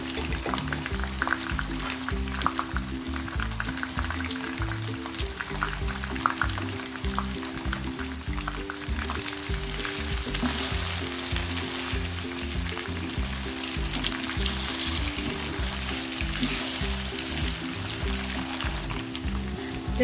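Cumin seeds frying in hot oil for an egg biryani, giving a steady, close sizzle and crackle that runs unbroken, with no talking over it.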